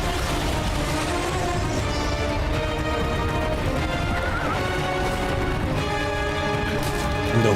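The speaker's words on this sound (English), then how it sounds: "The horse riding mechanics" A horse in a video game clip-clops along at a steady trot, its hooves thudding under a dense bed of game music, with a whinny rising partway through.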